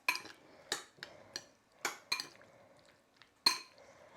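Spoon stirring chopped tomatoes together in a bowl for tomato raita, giving a series of sharp clinks and scrapes against the bowl at irregular intervals, close and fairly quiet, with no talking.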